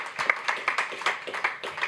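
A conference audience at an event on industrial and business competitiveness applauds: brisk, rhythmic claps from a modest crowd, fairly close and steady for about two seconds, with no talking.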